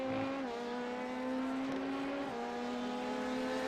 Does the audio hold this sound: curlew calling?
no